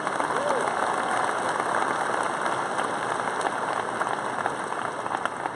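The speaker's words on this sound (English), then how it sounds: "let's give them a round of applause as well" An audience at a high school graduation applauds teachers, a dense, steady wash of clapping from a large crowd that continues loudly throughout.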